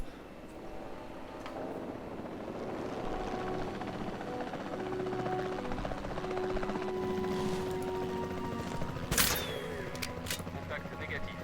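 A helicopter in the game Jurassic World Evolution 2 hums with a steady rotor drone under a moderately loud mix of game effects, gunfire bursts and voices speaking.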